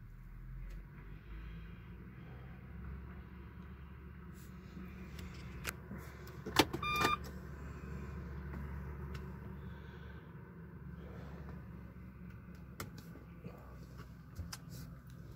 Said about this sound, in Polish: Ale auto już chodzi.